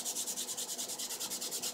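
Maple wood is hand-sanded with rapid back-and-forth strokes, about eight per second, each one a quiet, close, even scratchy rub with no voices.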